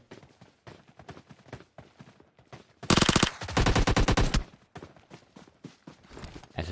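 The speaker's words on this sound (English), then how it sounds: "M24 ringing out" M24 sniper rifle gunfire in the mobile battle royale game PUBG Mobile: sharp shot reports and a loud, sustained rapid burst in the middle, over a steady patter of quick clicking steps.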